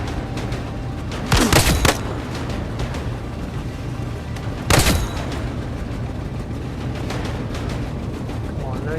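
Gunfire in the VR shooter game Zero Caliber Reloaded, played on Oculus Quest with a gunstock: two loud, brief bursts of shots a few seconds apart over a steady background of game noise.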